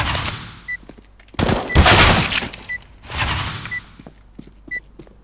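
Bursts of rifle fire in CS:GO, a few loud shots around two seconds apart with quieter single shots between, set in a busy match with no clear talk.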